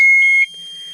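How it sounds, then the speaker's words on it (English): A sharp, high electronic beep rings out loudly for a moment, then cuts off, leaving a faint residual hum. "Beep, beep."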